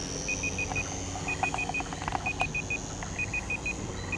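A 7-minute timer beeps in quick bursts of four high, evenly spaced tones, repeating over steady outdoor background noise at an RC plane flight.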